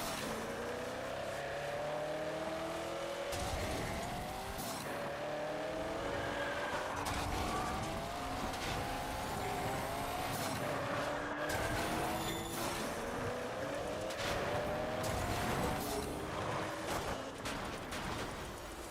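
Muscle car engine in MotorStorm Apocalypse, revving steadily with repeated rising and falling pitch sweeps as gears change, tyres skidding and squealing throughout, amid a busy, moderately quiet racing game mix.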